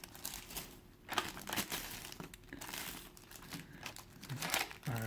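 Plastic wrapping around a Jibril anime figure crinkles and crackles continuously as it is handled and pulled off during unboxing, close up with no talking.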